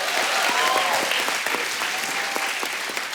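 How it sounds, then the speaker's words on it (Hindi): Loud, continuous studio audience applause at a comedy talk show, a dense wash of clapping that holds steady for about three seconds with a slight tail-off at the end. "जोरदार ताली पहले ही"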